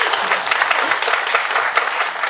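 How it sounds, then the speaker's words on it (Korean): Steady applause from a crowd at a film production press conference, dense and sustained clapping throughout, fairly loud with no talking. "응원의 박수 한번 보내주시겠어요?"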